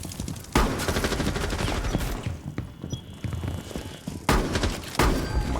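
Shotgun hipfire in Rainbow Six Siege: loud, punchy blasts with sharp onsets, a heavy one near the start and more around the middle and end, over a dense bed of in-game gunfire and impacts.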